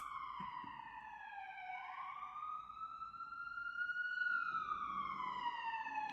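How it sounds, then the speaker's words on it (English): A siren wails in long rising and falling tones, steady and moderately distant, its pitch sliding as it goes by. "Do you hear the siren? Hold on. Let me let it pass."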